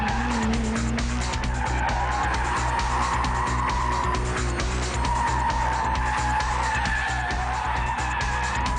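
An Audi RS4 Avant estate car corners hard on a race track, tyres squealing in long sustained howls while the engine note rises and falls through the bends, loud and close throughout.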